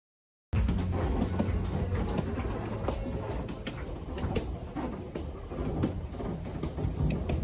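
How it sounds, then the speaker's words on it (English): A train rumbles along the tracks in the Andes in a continuous loud roar, heard from the back of the train, with faint clicks and clatter from the wheels throughout. "This is a view from the back of the train. There was a tremendous amount of noise back here."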